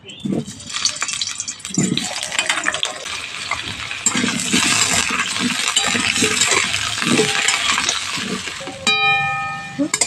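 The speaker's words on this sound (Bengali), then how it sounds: "তেল গরম হয়ে গেছে প্রথমে আলুগুলো ভেজে নিচ্ছি" Potato pieces fry in hot mustard oil in a kadai, giving a steady sizzling hiss with occasional clinks and scrapes from stirring.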